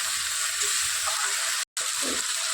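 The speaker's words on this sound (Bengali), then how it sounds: "এই যে আমার আদা রসুন আর পেঁয়াজের মশলাটা ভাজা হয়ে গেছে এবার আমি ওদের টমেটো দিয়ে দিলাম" Ginger, garlic and onion masala with tomatoes frying in a pan makes a steady, loud sizzle that carries throughout. The sound breaks off briefly near the end, then resumes.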